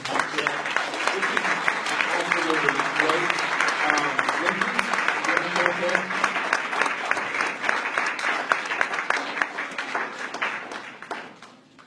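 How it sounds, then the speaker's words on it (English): A crowd at a Standing Rock support gathering breaks into sustained applause, dense clapping filling the room for nearly twelve seconds before tapering off, while a speaker's voice carries over it. "Let's give everybody a round of applause"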